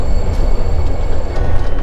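A passenger train rumbles along the rails in Vietnam, heard from inside as a loud, continuous low roar with faint metallic squeals over it and no talking.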